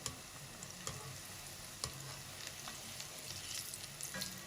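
Pakoras fried in oil in a full kadai, a steady dense sizzle with occasional light taps and scrapes as they are turned, faint and continuous.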